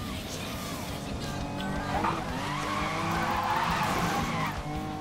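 Tires skid and scrape as a BMW races in Need for Speed Most Wanted, a sustained loud screech over engine roar lasting several seconds, with faint background voices.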